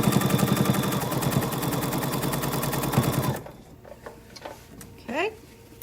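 A sewing machine stitches down quilted turkey trivet fabric in a fast, steady run of needle strokes for about three seconds, then stops, leaving only faint handling clicks and rustles.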